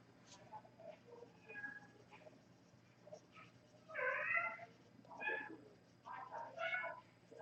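A child imitates a cat, giving several drawn-out meows in short bursts near the microphone over a low steady hum.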